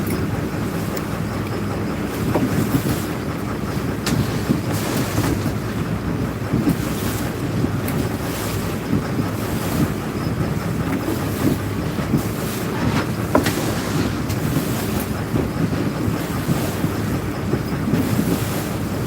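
A Chesapeake deadrise crab boat with a single Cummins 5.9 BTA 315-horsepower diesel runs under way on the river, its steady engine drone blended with heavy wind buffeting and water rush throughout, with no talk.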